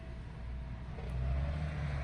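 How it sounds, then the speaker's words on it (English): Road traffic outside a home workroom makes a steady low rumble that swells slightly partway through, with no voices over it. "A lot of traffic."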